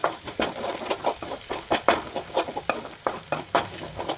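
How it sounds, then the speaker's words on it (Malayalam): Ginger-garlic paste and curry leaves frying in coconut oil in a Kerala-style chicken roast, a steady close sizzle broken by rhythmic stirring scrapes. "അത് എണ്ണയിലിട്ട് നന്നായിട്ടൊന്ന് മൂപ്പിക്കുക"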